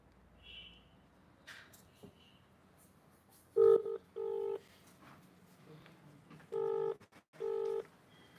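Phone number dialed on a mobile phone, several distinct keypad tones in short clusters, loud and close, with faint background sounds between the tones.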